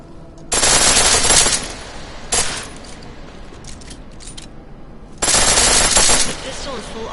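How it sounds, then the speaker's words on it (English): Bursts of automatic pistol fire in a video game, three rapid loud strings, the first and last about a second long with a short burst between, all close and alone without talk. "The pistol in full auto will take down targets fast, but it'll burn through your ammo."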